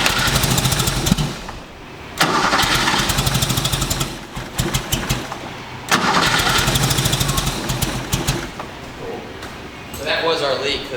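A Porsche 911 engine, just back from an exhaust leak repair, cranks and fires up several times, each start swelling into a loud, raspy idle that cuts off between attempts, with a person talking in between.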